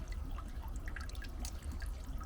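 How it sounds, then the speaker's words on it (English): Rainwater trickles and drips into a large home rain-collection barrel, with scattered small drops over a soft steady flow, close by and fairly quiet, no one speaking. "it's starting to kind of drip in there a little bit"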